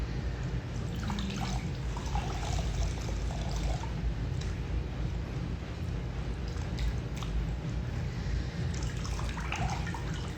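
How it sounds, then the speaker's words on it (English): Water poured steadily during a washcloth washing ritual, a continuous soft splashing and trickling stream with drips, close and even throughout with no voices. "So I'm finding myself enjoying the sound of the water."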